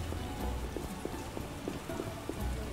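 Rain falling in The Witcher video game, a soft steady patter of rain on surfaces at low level, with faint periodic hoof-like clops.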